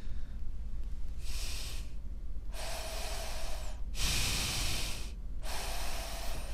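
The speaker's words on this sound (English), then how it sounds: "That's not me breathing." A person breathes heavily and close into a podcast microphone, giving four loud, hissing breaths separated by short pauses over a steady low hum.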